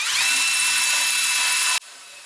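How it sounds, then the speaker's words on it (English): A wire wheel grinds loud and steady against a plasma-cut aluminum dash panel edge, a harsh continuous whine that stops abruptly, leaving only a quieter hum. "I'm just going to go in here and just clean up this edge with the wire wheel."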